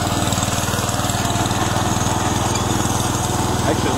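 A John Deere 120 hydrostatic lawn tractor engine runs steadily and loudly up close, with an even, throbbing drone and no pauses.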